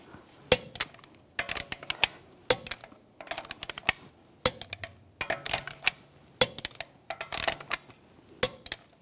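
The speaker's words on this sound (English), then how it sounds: "Now I'm going to torque the lug bolts to 90 foot-pounds in a cross pattern" Repeated metallic ratcheting clicks in short bursts as a torque wrench tightens wheel lug bolts on a 2009-2013 BMW 328i xDrive, close and sharp with brief pauses between bolts.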